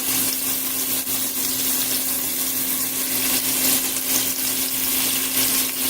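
A cheeseburger patty being pressed down on a hot cooking surface, frying with a steady, dense sizzle that carries on evenly throughout, fairly loud and close.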